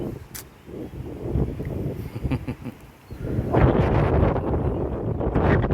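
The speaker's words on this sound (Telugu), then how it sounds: "చూడండి చల్లటి గాలి" Gusty wind buffets the microphone with low rumbling roar, rising stronger in the second half, with faint background noise.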